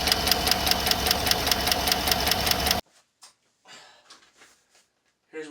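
A GM V8 truck engine with Active Fuel Management lifters idles with a rapid, regular ticking for about three seconds, then cuts off and a voice follows.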